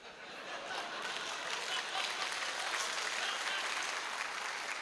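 An indoor training-session audience applauding steadily, a dense even patter of clapping that holds for several seconds.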